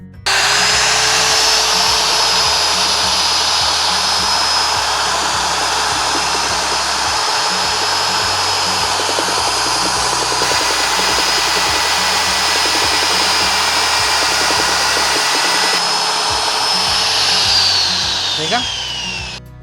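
An electric plaster mixer runs continuously while mixing mortar for masonry work, a steady loud motor whine with a grinding, churning layer beneath, close and unbroken for the whole stretch.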